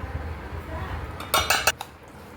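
Spoon scraping and clinking against a bowl while Kashmiri red chilli powder is mixed for homemade achar masala, a few sharp knocks in quick succession after a soft stirring rustle.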